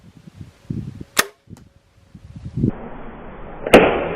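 An arrow fired from a bow, fletched with AAE Max Stealth straight vanes, gives a sharp release snap followed by a crisp impact thud, with a few soft handling knocks beforehand and a rising outdoor hiss afterward.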